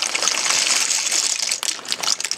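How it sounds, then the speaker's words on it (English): Continuous bubbling and hissing of pasta water at a rolling boil, close up, with a steady churning texture and occasional splashy surges. "so I have pasta water boiling"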